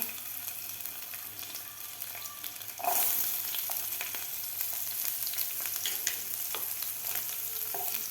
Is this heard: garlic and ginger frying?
yes